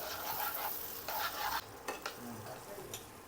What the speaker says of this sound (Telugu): ఇది కూడా పచ్చివాసన పోయినంత వరకు నీట్గా కలుపుకోవాలి